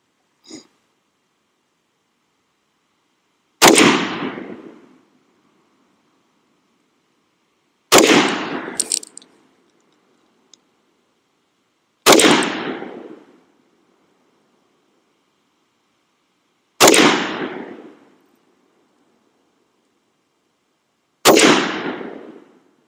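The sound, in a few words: BRN180 rifle firing 5.56 rounds at target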